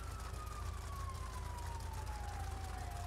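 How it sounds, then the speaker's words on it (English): Police car sirens in a video game: a faint, distant siren wail slides slowly downward over a constant low rumble of traffic and engine noise. "I'm just going to sit here and watch what these 2 or 3 police cars are going to do."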